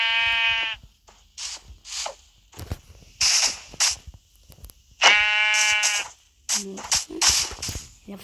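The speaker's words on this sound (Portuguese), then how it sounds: "Eu nunca vi uma ovelha preta." A black sheep bleats loudly several times in separate quavering calls, with short gaps and faint sounds in between.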